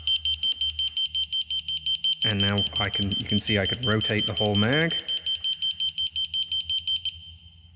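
A magneto timing tool on a Piper PA-28 aircraft beeps in a rapid, steady, regular pulse that runs through the whole stretch while someone talks over the middle part.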